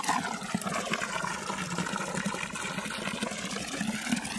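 Clean spring water runs from the Vuliceni mountain spring in Panaci, Bucovina, a steady close splashing and gurgling flow with no voices.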